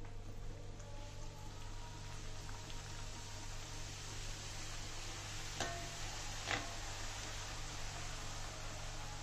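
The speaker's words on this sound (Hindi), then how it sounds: "इसे ऐसे ही डाल के फ्राई कर लेंगे।" Katori baskets deep-frying in hot oil, a steady soft sizzle and hiss running evenly throughout at low volume, with a couple of faint clicks in the middle.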